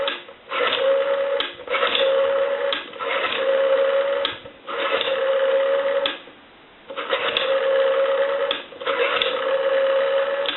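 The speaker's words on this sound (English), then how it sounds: "now I want to walk through our numbers here on the dial" Rotary dial of a vintage French metal telephone being dialed, producing a series of rhythmic buzzing pulse bursts with a steady tone, separated by short pauses between digits.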